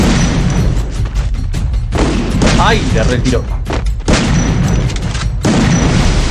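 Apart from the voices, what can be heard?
gunshots in a shooting video game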